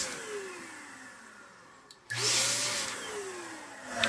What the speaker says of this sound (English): let's blow dust out